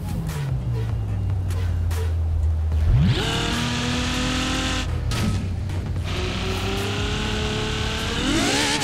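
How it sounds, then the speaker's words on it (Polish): A Ferrari Pista with a hybrid V12 in the racing game Forza Horizon 4 drones steadily, then revs up sharply and holds a high, loud whine, with a second climb near the end. "Dźwięk jest inny, no mamy tu V12,"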